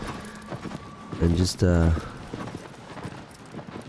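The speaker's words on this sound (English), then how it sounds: "I was just riding my horse." A horse's hooves clip-clop briefly in Shadow of the Colossus on PS4 Pro, a short loud run of steps under someone talking over game ambience.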